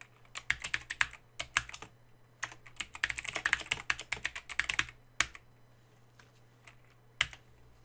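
Quiet keyboard typing in bursts of rapid clicks, pausing briefly, then a few scattered keystrokes toward the end.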